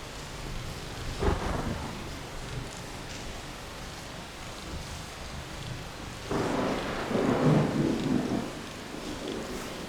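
Steady rain with rumbling thunder, one low crack early and a longer, louder roll later, over a constant wash of rainfall with no voices.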